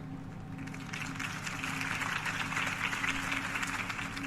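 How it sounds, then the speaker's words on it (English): A crowd in Batman: The Telltale Series applauds after a campaign speech, a steady, moderately distant wash of clapping that swells slightly and holds for several seconds. "If only Mr. Wayne, my campaign's largest backer, could have heard that applause"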